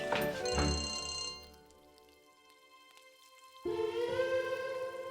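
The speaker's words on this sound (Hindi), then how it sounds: "ये फोन उठा लो इससे पहले कट जाए" A telephone rings in a Hindi TV drama scene, a loud multi-tone bell bursting out at the start, falling quiet for a couple of seconds, then ringing again steadily.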